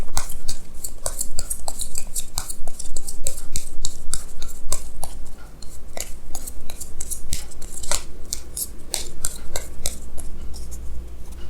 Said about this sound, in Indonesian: Jadi di sini saya akan tarik lagi 2 kartu tambahan